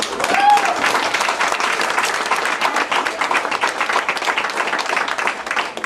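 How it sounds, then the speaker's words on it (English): Sustained, dense clapping from an audience at a martial arts belt ceremony in a family martial arts center, steady and fairly loud for the whole stretch, with a voice briefly heard at the start. "You can keep applauding, that's okay."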